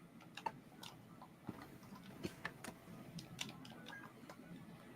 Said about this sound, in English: So that's why you're hearing me clicking